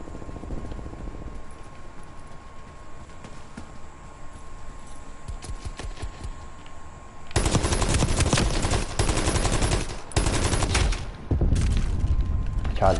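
Light machine gun fire in the Black Ops Cold War video game, with sustained loud bursts taking over midway after quieter in-game ambience, briefly pausing before resuming.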